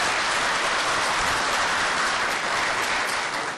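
Sustained, dense applause fills a city council chamber during an Ottawa committee meeting, a steady wash of many hands clapping with no voices over it, tapering slightly at the end.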